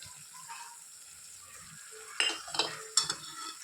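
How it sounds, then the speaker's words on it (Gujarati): Tomato is stirred into onions frying in a pan for batata poha; soft sizzling lies under a few louder scraping strokes of a spoon near the end, close-up. "હવે આપણે ટમેટું એડ કરી દઈશું એમાં।"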